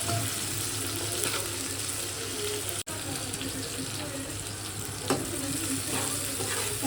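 Tomato frying in a pan in a home kitchen gives a continuous, fairly loud sizzle and hiss with occasional faint clinks and stirring scrapes.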